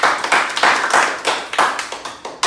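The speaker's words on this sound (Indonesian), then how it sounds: "mari kita berikan tepuk tangan" Hands clapping in a classroom presentation, a small group of students giving quick rhythmic claps in repeated bursts, fairly close and loud, with no talk over it.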